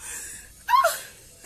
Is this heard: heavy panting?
yes